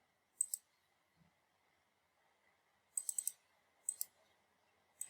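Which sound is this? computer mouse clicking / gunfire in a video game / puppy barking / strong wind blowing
computer mouse clicking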